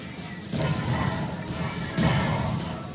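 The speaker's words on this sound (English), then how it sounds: "I try and deal with that infantry push for them with a strafing run." A strafing run against an infantry push in the video game Company of Heroes 2, heard as two heavy whooshing thuds of aircraft fire and impacts about a second and a half apart.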